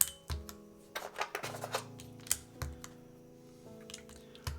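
Keys clack on a Mode Sonnet mechanical keyboard fitted with Honor Light keycaps, a close, quiet run of irregular taps with short pauses between bursts, over a faint steady background hum.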